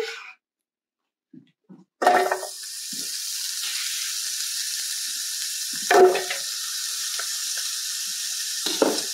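Onion tipped into a hot pot for a Southern tomato beef stew, hitting with a sharp hiss that settles into a steady, close sizzle; a second burst of sizzling follows a few seconds later.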